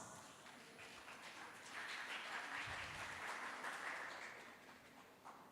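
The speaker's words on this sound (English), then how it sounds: "please give a round of applause" Conference audience applause, quiet and distant, a soft continuous clapping that swells slightly midway and then fades.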